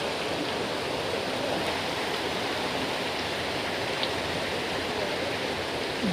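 Rainwater flows across a flooded farm field in a steady broadband rush, continuous and fairly close with no voices over it.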